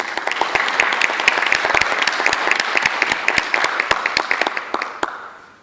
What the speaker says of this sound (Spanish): solicitamos un fuerte aplauso a los docentes